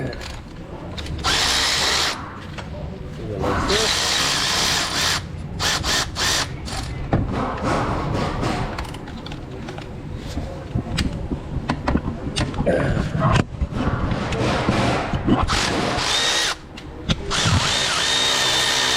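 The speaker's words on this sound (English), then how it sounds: "Now for the bottom two bolts, using an air ratchet." An air ratchet loosens the lower alternator bolts on a 2010 Lincoln Town Car in loud, close bursts of whirring and rattling, separated by short pauses and clanks of the tool against metal.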